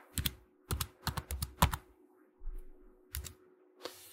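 Typing on a Mac computer keyboard in short clustered bursts of crisp key clicks, with quiet pauses between groups and no talking.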